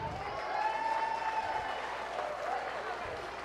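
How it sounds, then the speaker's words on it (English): An audience at a county fair junior dairy showmanship class gives a round of applause, a fairly faint, even patter of clapping under a voice on a loudspeaker in a large space. "Let's give a round of applause for our first class of dairy showmen."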